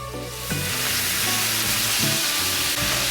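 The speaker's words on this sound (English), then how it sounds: "When your pan is nice and hot, we're going to add 2 tablespoons of white vinegar." White vinegar hits a hot pan of guanciale and erupts into a loud, dense sizzle that holds steady throughout, with faint low musical tones running underneath.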